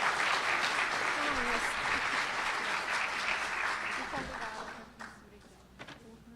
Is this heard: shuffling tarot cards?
no